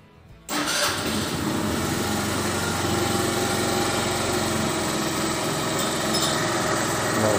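A small engine, just refitted with its original clutch and V-belt, starts abruptly and then runs at a steady, even, loud drone for several seconds, close by with no talking.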